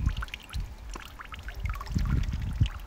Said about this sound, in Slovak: Ty sa hráš s vodou